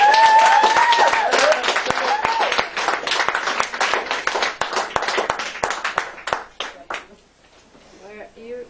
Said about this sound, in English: Big round of applause for Anne.